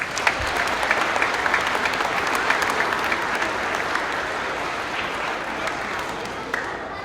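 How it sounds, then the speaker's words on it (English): An elementary school audience at a Veterans Day program claps for students, a steady wash of applause from a crowd, continuous and moderately loud, tapering slightly toward the end. "Let's give our students a round of applause."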